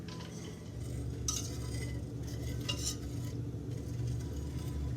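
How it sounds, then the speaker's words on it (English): Utensils scrape and clink softly against a warm pot as chocolate melts for pumpkin spice hot chocolate, with steady stirring strokes and a faint sizzle close by, no talking. "it is important to keep stirring this as it's melting because you really do not want this to burn"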